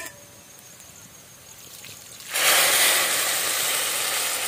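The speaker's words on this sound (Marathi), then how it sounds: "ह्यात गरम पाणी वाटायचं।" Hot water is poured into rice that was just sautéed for masala rice, a quiet start giving way to a sudden loud, steady rushing pour that continues to the end.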